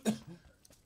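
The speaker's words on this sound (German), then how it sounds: "Ah, ich muss gerade erstmal husten" A single short cough from a gamer at the microphone, one sharp burst followed by a faint trailing breath, close and fairly quiet.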